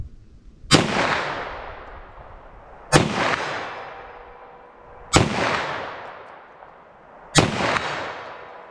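A .357 SIG pistol loaded with Corbon 125 gr JHP rounds fires four loud, sharp shots at steady intervals of about two seconds, each followed by a long echoing outdoor decay.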